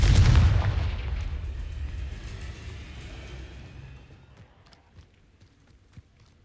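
A Confringo fire spell explodes in Hogwarts Legacy with a loud booming blast at the start, then a long rumbling decay that fades over several seconds, ending in a few faint thuds.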